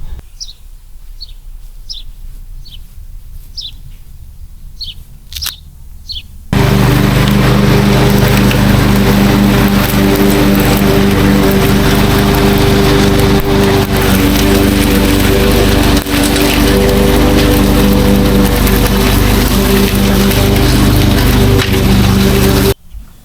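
Birds chirp in a quiet yard at first, then a lawn mower starts abruptly and drones loud and close for the rest, its steady engine hum dominating until it stops.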